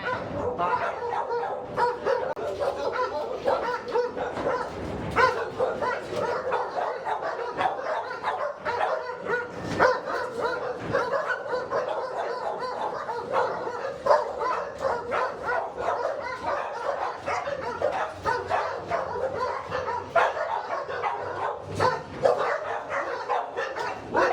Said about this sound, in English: This is where we keep all of our smaller dogs at.